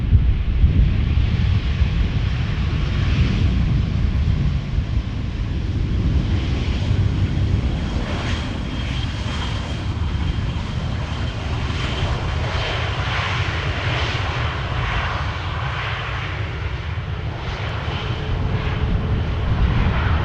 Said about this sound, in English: Let's quickly go back to the airplane just touching down. Vueling by the looks of it